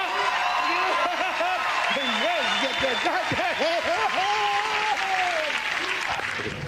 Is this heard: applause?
yes